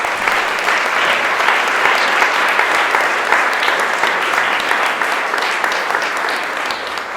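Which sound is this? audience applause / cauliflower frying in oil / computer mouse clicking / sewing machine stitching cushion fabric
audience applause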